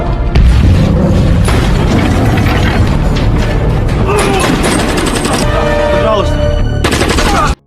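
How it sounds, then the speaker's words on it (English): Grenade explosions and bursts of gunfire tear through a military base in the action film Salt, booming blasts and rapid machine-gun rattles stacked densely and loudly, with shouting voices mixed into the chaos. "she grabs a bunch of grenades and guns in order to kill everyone in the base without hesitation"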